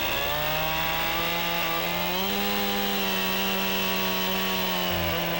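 Chainsaw boring a plunge cut into a log to form a mortise, its engine droning steadily and close with a harmonic whine that rises slightly partway through as the bar bites into the wood, no talk.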